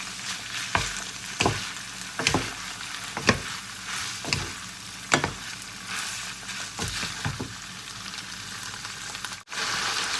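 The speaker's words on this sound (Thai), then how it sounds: "เราผัดคลุกเข้ากับเส้นบุกเข้ากันแล้วนะคะ" Minced meat and konjac noodles are stir-fried, with a steady sizzle broken by regular sharp clacks of the spatula against the pan, roughly once a second, close and clear.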